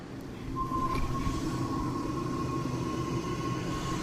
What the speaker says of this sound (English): That was the sound of the core coming back on deck.